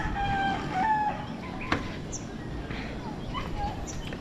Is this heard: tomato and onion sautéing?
no